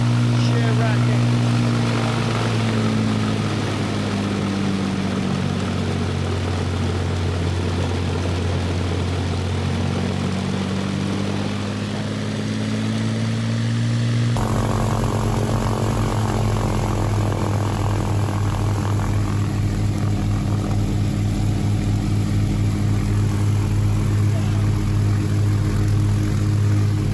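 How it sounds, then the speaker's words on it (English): A de Havilland Mosquito runs its two Rolls-Royce Merlin engines in a loud, sustained propeller drone with a steady deep throb. Midway the sound shifts to a harsher, rougher roar, and talk is faintly present beneath it. "what it sounds like with those two Merlin engines, Rolls-Royce Merlin engines running"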